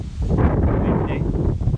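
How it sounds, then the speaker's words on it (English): Steady wind buffets a touring cyclist's microphone on a cold, windy day riding through Sweden, a loud continuous low rumble with gusty fluctuations throughout. "Windy."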